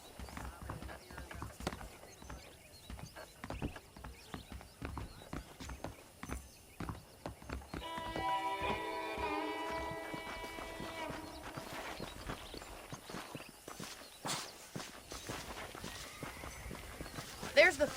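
Horse hooves clip-clop steadily on a dirt street in the PlayStation 4 Pro version of Red Dead Redemption, with an occasional whinny, spoken dialogue over the steps and a music passage partway through.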